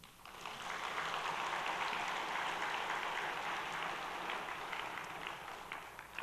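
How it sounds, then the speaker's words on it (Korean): A church congregation applauding, a dense steady wash of many hands clapping at once, sustained for several seconds at an even, moderately distant level with no talk over it. "박수."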